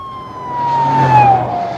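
A siren wails with a slowly falling pitch over a low rumble of traffic, rising in loudness toward the middle and staying fairly close.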